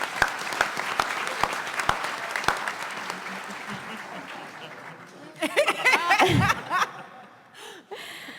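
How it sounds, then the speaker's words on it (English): A convention audience at a Star Wars books panel during New York Comic Con 2019 applauds, sharp claps ringing out before the clapping thins and fades, then laughter and chatter rise near the end. "Round of applause for Ethan Sachs."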